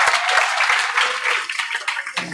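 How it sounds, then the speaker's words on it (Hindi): A studio audience breaks into loud applause for a guest on an Indian talk show, a dense, steady wash of clapping that stays strong throughout, with a few sharper bursts near the end. "एक बार जोरदार तालियां, क्या बात है यार, सुपर।"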